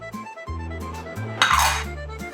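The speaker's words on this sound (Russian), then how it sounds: "Лучше всего все хорошенько перемешать." A pot of cream sauce with garlic, broth, salt, black pepper and nutmeg being stirred, with soft metallic scrapes and clinks of a utensil against the pot over a low steady hum.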